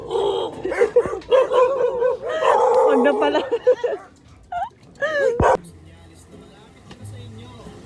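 Several dogs, including a Belgian shepherd, bark and yip close by, the barks mixed with people talking; after a short whimpering stretch the noise drops off to near quiet.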